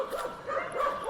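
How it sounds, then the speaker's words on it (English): Dogs bark and yip continuously nearby in an indoor room, a steady run of overlapping barks and whimpers at moderate loudness. "Shush, dogs."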